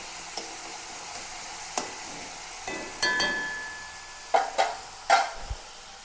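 Onion, garlic and green chilli sizzle quietly in a pan under a steady low hiss, broken by a few louder clinks and scrapes of a spoon stirring against the metal.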